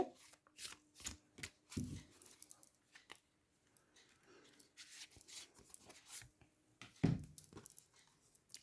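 Tarot cards shuffled and handled by hand to draw one more card, with soft papery riffles and taps scattered across the stretch, a couple of sharper slaps standing out, quiet and close with no talk.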